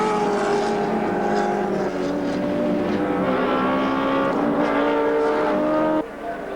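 A BMW M3 touring car races around the Wanneroo circuit in 1987 Australian Touring Car Championship competition, its engine a loud, sustained, rising and falling drone that stays steady throughout before dropping away near the end.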